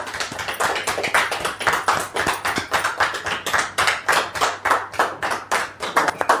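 Audience at a training session clapping to welcome Rekha, loud sharp claps nearby from a small group, falling into a brisk, fairly regular rhythm that continues throughout.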